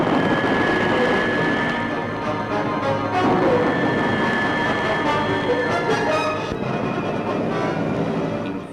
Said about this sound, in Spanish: Los aviones adictos al gobierno inician el bombardeo final.